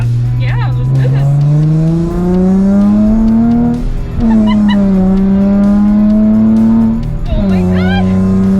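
A car fitted with new Whiteline sway bars and Bilstein V16 coilovers accelerating hard from inside the cabin. The engine note climbs through several rising gear pulls, loud and close, with brief shifts between them.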